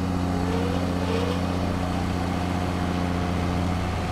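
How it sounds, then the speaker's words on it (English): Tractor engine in Farming Simulator 22 revving hard with a steady, loud drone while a combine header switches on, producing a continuous layered mechanical hum with no speech. "I know the tractor's revving its guts out, but I do L1 and turn on header."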